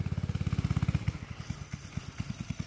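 A small go-kart engine putters in a rapid pulsing rhythm that slows and fades as it moves off.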